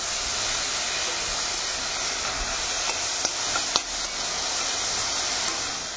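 Sliced bitter gourd fries in hot oil, a loud continuous sizzle and hiss heard close up, broken by a few faint clicks from utensils, with no voices.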